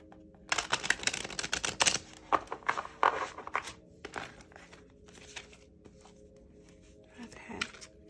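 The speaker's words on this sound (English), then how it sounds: "This deck is a little hard to shuffle" Rapid papery riffling and flicking of a hard-to-shuffle deck of tarot cards, busiest at the start, then scattered softer card snaps and handling noises.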